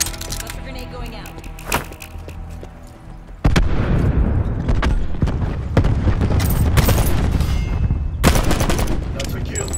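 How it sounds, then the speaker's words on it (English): Cluster grenade explosions in Call of Duty Black Ops 4 erupt as a sudden loud blast followed by a dense, sustained string of booms and cracks, with a quieter stretch of scattered shots before it. "Cluster grenade going out."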